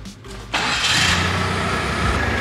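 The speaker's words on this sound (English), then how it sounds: "start your engine" A car engine cranks and catches, jumping to a loud, steady running roar that holds after a brief quiet start.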